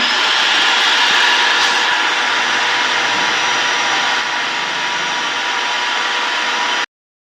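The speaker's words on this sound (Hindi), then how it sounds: "तो अभी पापा सुबह जाके दूसरी ड्रिल मशीन लाए हैं, तो ये उससे थोड़ी बिगर है तो इट वुड हेल्प अस" A larger electric drill boring holes indoors during a living room makeover, a loud steady whirring whine running continuously for several seconds before cutting off abruptly, with no talk.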